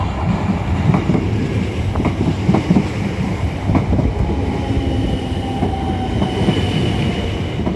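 An old train rumbles along loudly, wheels clattering in a rhythmic clickety-clack over a heavy continuous roar.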